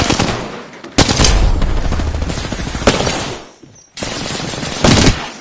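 Rapid automatic gunfire rings out in a PS4 shooter game, with loud sustained bursts that break off for a moment and then resume, close and dense.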